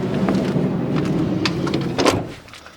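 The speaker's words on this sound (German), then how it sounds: "Und jetzt? Machen wir die Tür zu." A camper van door on a stealth-built 7 m Crafter pulls shut with a solid thud around the two-second mark, following a stretch of rustling and handling noise close by; no one speaks.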